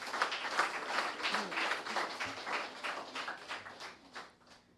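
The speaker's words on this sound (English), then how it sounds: "Let's give Bombay Team STA a big round of applause" An audience at a debate competition winner announcement applauds a debate team, a dense, even burst of many hands clapping at moderate distance that tapers off toward the end.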